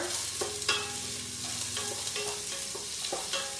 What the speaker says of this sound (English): I'm gonna go ahead and put all the onions. Give it a good stir.